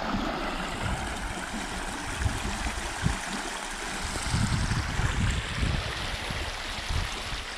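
Creek water flows steadily past a destroyed beaver dam, a continuous close rushing wash with a few low bumps and gurgles and no voices.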